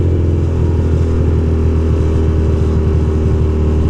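A motorcycle ridden through Midtown Manhattan, its engine a loud, steady low rumble with flickering texture throughout, close and continuous with no talk.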